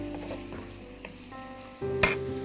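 Onions frying in a pan for chicken fried rice, a low continuous sizzle with a quick utensil clink and a louder burst of frying near the end.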